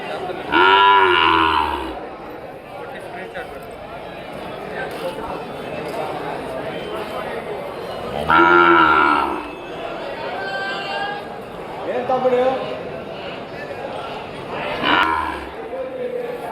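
Cows and calves at the Thursday Krosuru cattle market let out a few loud, low moos near the start, middle and end, with voices and crowd chatter running throughout.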